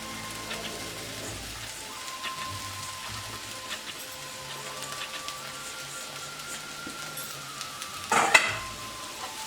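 Soaked beaten rice flakes (aval) tipped into a hot tempering in a pan for aval upma give a soft, steady sizzle that stays faint throughout, with a brief louder clatter near the end.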